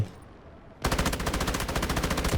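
Sustained automatic machine gun fire from an M249 LMG in the video game Delta Force, a rapid, steady, loud burst that starts abruptly after a quiet moment and continues without pause.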